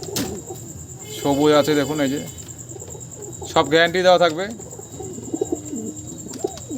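Pigeons coo at a pigeon dealer's loft in Payradanga, Nadia, with two clear bursts of low, throaty cooing under someone talking nearby.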